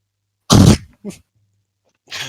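A person coughs once, sharply and loudly, close by, followed by a softer short cough and a faint third after a pause.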